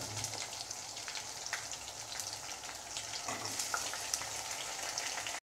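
Onion and green chillies frying in a pan for chow chow milk kootu, giving a continuous soft, fine crackling sizzle like light rain, close but fairly quiet, with a few faint clicks and no talking.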